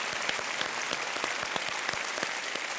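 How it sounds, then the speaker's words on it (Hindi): Studio audience on the Kaun Banega Crorepati quiz show applauds a departing contestant, a dense, steady burst of many hands clapping at moderate volume throughout. "मैं चाहता हूं कि बहुत तालियों के साथ इनका अभिनंदन किया जाए।"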